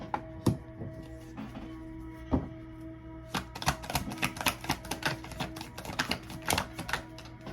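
Tarot cards shuffled close up during a reading: a few sharp isolated snaps, then from midway a rapid, uneven burst of crisp clicking and slapping as the deck is worked, with a low steady hum underneath and no talking.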